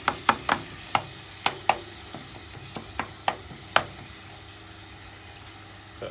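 Lasagne filling browning in a pan, scraped and stirred with a utensil: a series of sharp scrapes and knocks come in an uneven rhythm over a quiet, steady background sizzle.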